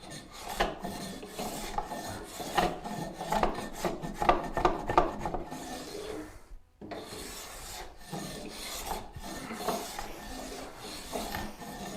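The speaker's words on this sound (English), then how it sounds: "Card scraper, there's a little bit of finesse to that. I'm still getting shavings and dust." Close, crisp scraping rasps as a card scraper pulls shavings and dust off the wood of a Viking chair, in quick uneven strokes that bunch together, then a short pause before steadier scraping resumes.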